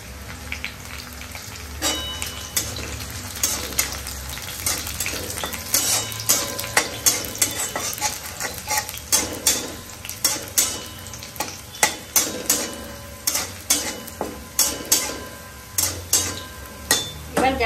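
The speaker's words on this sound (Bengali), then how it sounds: "কমিয়ে নিয়ে এর মধ্যে দিয়ে দিলাম রসুন কুচি। রসুনটাকে বেশি ভাজবো না, কমই ভাজবো।" Chopped garlic and dried red chillies fry in hot oil in a pan, a steady close sizzle broken by repeated metal stirring clinks and scrapes that grow more rhythmic toward the end; no one speaks.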